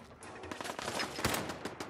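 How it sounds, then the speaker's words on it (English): Pipe bolt-action rifle firing in Fallout 4, with several sharp gunshot cracks amid a busy stretch of game combat noise, one louder report standing out near the middle. "Pipe bolt action rifle."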